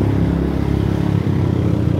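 A motorcycle rides along a coastal road in the Philippines, bound from Cagayan de Oro toward Camiguin Island. Its engine drones steadily and close, with a constant low rumble and no speech.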